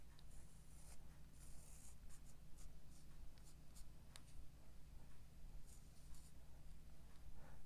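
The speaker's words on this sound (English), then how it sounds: "We'll draw another one here." A pencil sketches snowdrop petals on paper, a soft continuous scratching of short strokes, close and quiet over a low background hum.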